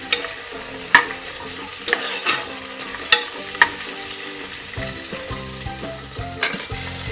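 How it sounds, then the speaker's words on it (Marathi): Chopped onion sautés in a pan for Marathi matar rice, a steady close sizzle with occasional scraping stirs, while soft background music plays underneath and no one speaks. "कांदा परतूया।"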